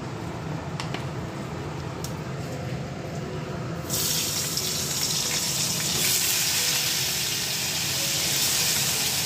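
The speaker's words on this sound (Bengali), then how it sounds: "আর পরিবেশটা দেখো, একদম পুরো বৃষ্টি হচ্ছে" Heavy rain pouring down outside a home, a dense steady hiss that swells louder partway through and keeps rushing, with no talk.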